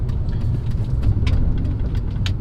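A BMW E46 engine running while the car drives, a steady low rumble with road noise, constant and fairly close, with no voices.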